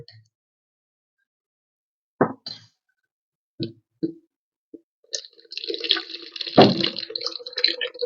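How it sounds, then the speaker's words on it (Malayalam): Homemade passion fruit syrup poured into a container: a few separate drips and plops, then a steady trickling splash of liquid running for the last few seconds, fairly close and quiet, with no talk. "ഇനി നമുക്കൊരു പാത്രത്തിൽ ഒഴിച്ചു വെക്കാം"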